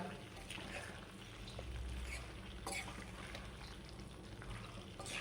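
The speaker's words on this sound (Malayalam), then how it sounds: "അപ്പോൾ ഇത് മെല്ലനെ നമ്മൾക്കിതൊന്ന് മിക്സ് ചെയ്തെടുക്കാം" Cut vegetables gently stirred and mixed in a pan for a home-style side dish, a continuous soft scraping and faint sizzling wash with no voices.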